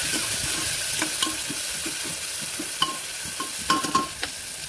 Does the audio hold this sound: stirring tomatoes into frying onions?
yes